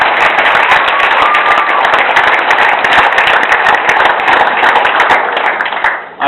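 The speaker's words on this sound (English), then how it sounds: "Certainly, give a round of applause." An outdoor crowd at a reelection speech breaks into sustained applause, dense clapping at full volume for several seconds before tapering off at the end.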